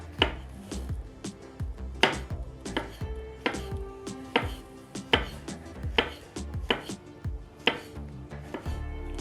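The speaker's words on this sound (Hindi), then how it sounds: "अब हम मशरूम को काटेंगे।" A knife chops mushrooms on a cutting board for a homemade vegetable clear soup, giving a steady run of crisp, fairly quiet strokes at an even rhythm with no voices.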